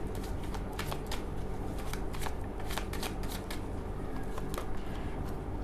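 Tarot cards are shuffled close up in a rapid, continuous riffling patter, with crisp snaps as cards flick against each other in irregular bursts.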